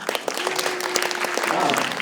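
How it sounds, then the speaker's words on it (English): An audience at a science lecture about life's future in the cosmos breaks into steady, dense applause lasting two seconds, with a faint sustained hum beneath the clapping. "Easy applause around here"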